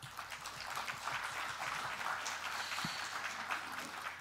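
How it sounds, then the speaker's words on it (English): An audience at a startup founder event applauds the organizing committee, a quiet, distant spread of clapping under a low hum, with a few closer hand claps popping through. "let's give them all a round of applause for making this possible."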